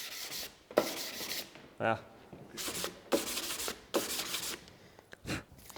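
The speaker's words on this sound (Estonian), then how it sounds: "tegime seda lihvimise stseeni, et saaks seda tolmu niimoodi lendlemas õhus näha" A surface is sanded by hand on a film set at a vocational school, with dust raised into the air; there are several loud, rasping back-and-forth strokes separated by short pauses, and a voice speaks briefly between them.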